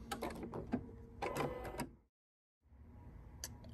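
An embroidery machine stitches an outline on a felt coaster held in a hoop, with faint, rapid mechanical chattering in two short runs separated by a brief silent pause.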